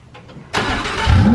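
A twin-turbo Lamborghini Huracan, rated at 1,000 hp, fires up with a sudden loud bark after a faint whir, then holds a close, rising roar.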